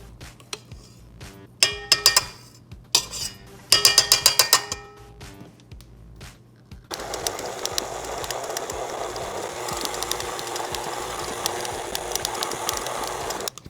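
A stand mixer slowly churns cake pop dough with frosting. Clinks and taps sound first, then the motor starts and runs as a steady mechanical whir with faint rhythmic ticking.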